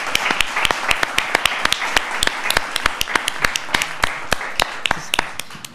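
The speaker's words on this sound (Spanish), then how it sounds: "Un aplauso." A short burst of clapping from a small group, dense sharp claps running steadily for several seconds before tapering off.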